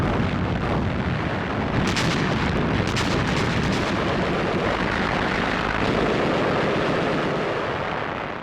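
An artillery bombardment at El Alamein rumbles as a dense, continuous barrage of distant booms and blasts with sharper cracks early on, loud and unbroken with no voices.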